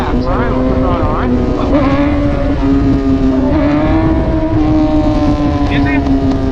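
A BMW S1000RR superbike engine revs with quick throttle blips while setting up a power wheelie, rising and falling pitch up close, with wind noise over the microphone.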